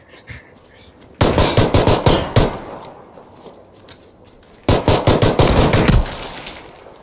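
Gunfire in the PUBG battle royale video game comes in two loud bursts of rapid, closely spaced shots, separated by a short lull of quieter background noise.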